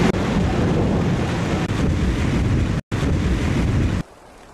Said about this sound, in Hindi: तब अचानक बादल गरजने लगता है और बारिश शुरू हो जाती है।